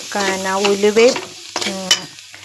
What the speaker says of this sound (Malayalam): ഉലുവയും കടുകും കൂടി, കടുക് വറുത്ത് ചുവന്ന ഉള്ളി, ഇഞ്ചി, വെളുത്തുള്ളി, പച്ചമുളക് എല്ലാം കൂടെ ഇട്ട് ശരിക്കും വരട്ടിയെടുത്തേ